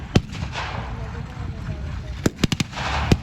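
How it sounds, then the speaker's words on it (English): A German Pak-38 anti-tank gun fires at a WW2 battle reenactment, giving several sharp, booming reports. One comes early, then a tight cluster of bangs arrives near the end over a steady outdoor rumble. "a Pak-38, wielded by the Germans, also comes into play, firing at these Allied forces"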